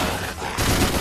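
In the video game Let It Die, gunfire rattles out as a quick, loud burst that swells in the latter half of a single second, with no talking.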